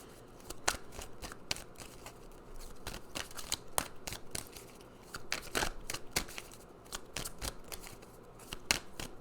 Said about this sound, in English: So let's pull some more cards and see what messages Spirit has for you